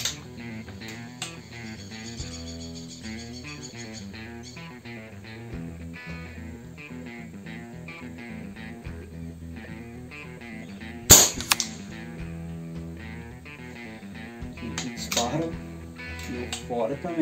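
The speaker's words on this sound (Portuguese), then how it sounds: "Terceiro disparo." An air rifle fitted with a Chinese-made regulator fires a single sharp shot that cracks out loud and close, standing out briefly against steady music and background sound.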